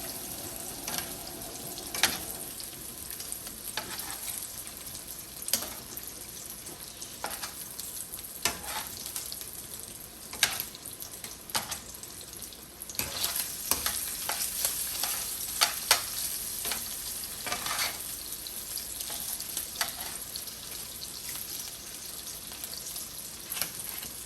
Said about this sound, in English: these sausages do not take long to cook